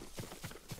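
Three spaced, muffled hoofbeats from a horse in Ghost of Tsushima thud softly over faint background noise, with no talking.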